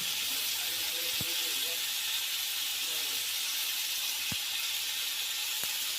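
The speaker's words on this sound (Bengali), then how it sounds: "এখন চুলায় তেল দিয়ে তেলের মধ্যে এই চিংড়ি মাছগুলোকে ভেজে নেব" Shrimp frying in oil in a pan at home give a continuous, even hiss of hot oil, steady throughout, with a few faint clicks.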